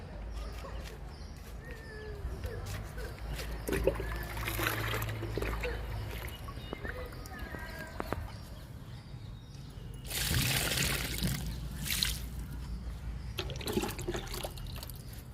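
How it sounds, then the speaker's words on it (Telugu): Liquid fertilizer poured onto drumstick plants outdoors, soft trickling and splashing at a low level with a heavier gush partway through, some faint background noise. "ఈ రెండు మునగ మొక్కలకు కూడా లిక్విడ్ ఇచ్చేద్దాము"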